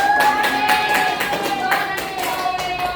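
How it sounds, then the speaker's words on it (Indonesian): An elementary school class claps hands together in a classroom, a loud rhythmic burst of repeated claps in a regular pattern with a sustained tonal note running underneath. "Beri tepuk tangan untuk"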